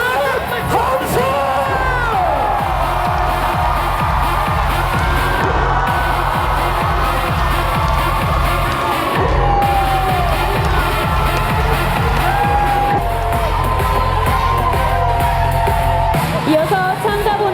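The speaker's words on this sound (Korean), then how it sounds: "즐거우시면 함성을 질러봅니다" A festival crowd at the Colorful Daegu Festival cheers and shouts loudly over booming stage music, a sustained roar of many voices with whoops.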